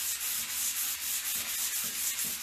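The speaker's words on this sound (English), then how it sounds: "wrap some 220 grit around my sanding block" Steady back-and-forth hiss of a sanding block wrapped in 220 grit paper rubbed over a wooden end table, close up and continuous, with soft strokes and no voices.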